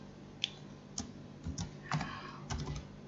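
Typing on a computer keyboard while entering a filter expression in software, a few close, crisp key clicks in short irregular bursts with quiet gaps, no talking.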